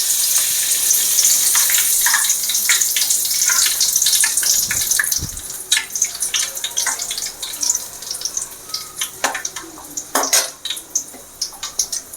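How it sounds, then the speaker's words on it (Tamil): Curry leaves dropped into hot oil while making elephant yam pakoda, giving a steady frying sizzle with scattered clinks of a metal utensil against the pan. "இப்போ நம்ம கருவேப்பிலை போட்டு பொரிச்சு எடுக்கலாம்."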